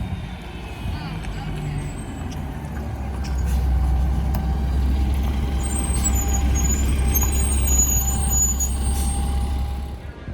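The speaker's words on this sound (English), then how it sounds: "And here comes the shuttle bus." A free shuttle bus pulls up near Merchant Square in Colonial Williamsburg, its steady heavy engine rumble growing louder as it nears, with faint brake hiss and background talk.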